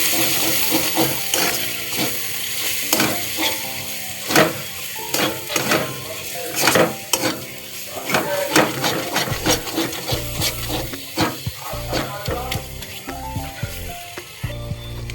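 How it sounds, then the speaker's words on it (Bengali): Masala of chilli, coriander and cumin powder sautéing for a mutton and potato curry, with a steady sizzle and frequent scraping, clattering stirs of a utensil against the pan, loud and close throughout. "ধনে গুঁড়ো, জিরে গুঁড়ো। ভালো করে মশলাটা কষিয়ে নেব।"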